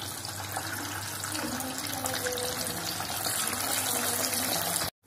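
Boiled potatoes fry in hot oil for Delhi-style aloo chaat, giving a continuous, close sizzling hiss that stays even throughout and then breaks off abruptly at the end.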